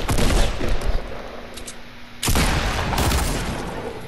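Gunfire crackles in a multiplayer video game as a dense fusillade of shots, fading briefly and then returning loud and close in a second burst.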